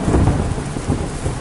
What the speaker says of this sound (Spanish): ¡Ah! ¡Truenos!